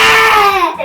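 A baby cries in protest, a short wailing cry with a falling pitch, loud and close, with no talk over it.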